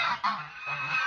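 Geese honk nearby on a farm in a quick series of nasal, raspy calls, several overlapping within a second.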